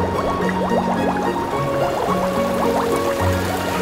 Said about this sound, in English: From bubbling mud rise sulfurous vapors.